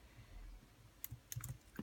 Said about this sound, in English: I type that.